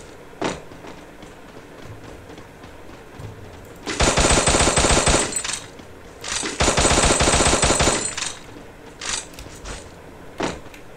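Gunfire from the 70s-styled stealth action video game The Chameleon, with two loud sustained bursts of rapid shots about two seconds each, separated by a pause, plus a few isolated sharp cracks before and after.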